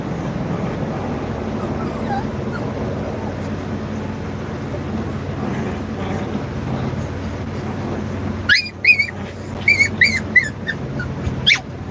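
A mother dog and her puppy playing, with a low rumble of road or car noise at first, then a sudden burst of sharp whimpers and high yips, close and loud, repeating in quick clusters toward the end.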